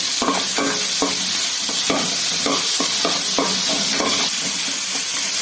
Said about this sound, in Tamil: தக்காளி நல்லா வெந்துக்கிட்டு இருக்கு எண்ணெயில்